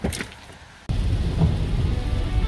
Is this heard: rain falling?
yes